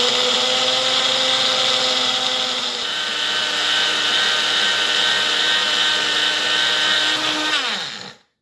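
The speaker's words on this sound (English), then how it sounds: "I'm going to put some shell in here, put that on there, and then we're just going to grind away" Blender grinding eggshells into powder: a loud, steady high-pitched motor whine with gritty grinding that runs continuously for about eight seconds, then spins down and cuts off abruptly, no talk.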